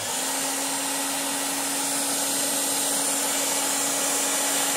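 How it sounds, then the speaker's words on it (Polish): A SilverCrest LIDL wet and dry handheld cordless vacuum cleaner with a Li-ion battery running at close range, a steady high-pitched whine with a constant airflow rush, loud and uninterrupted. "Jeżeli chodzi o sam odkurzacz"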